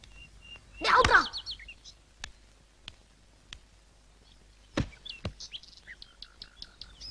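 A yellow parrot gives a loud, harsh burst of calls near the start, followed by scattered sharp clicks and a quieter run of high chirps.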